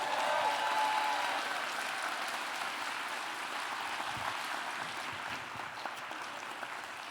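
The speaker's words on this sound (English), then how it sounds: "Let's give these MCs a big round of applause." An audience at a school district State of the Schools event applauds the MCs with broad, sustained clapping from a large crowd that is loudest at first and then eases slightly, with no talk over it.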